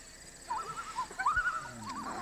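Bird calls from the 1988 film The Blob: warbling, wavering whistles repeat several times over faint background hiss and a low thump, fairly quiet and without speech.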